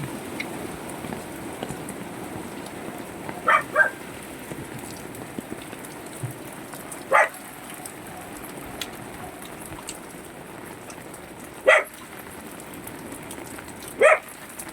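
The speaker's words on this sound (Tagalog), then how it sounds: "Ito maulan, bumalik na naman ang ulan." Steady rain falls beside a flooding riverside during a typhoon, a soft constant hiss with a dog barking a few times in the distance.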